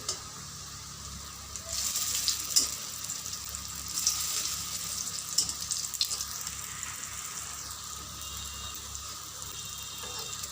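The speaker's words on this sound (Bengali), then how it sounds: "আমার কোপ্তাগুলোকে আমি উল্টে দেবো এক পিট হয়ে গেছে" Freshly flipped pea koftas fry in oil in a wok, a soft, fairly faint sizzle with bubbling swells and small pops, heard alone without speech.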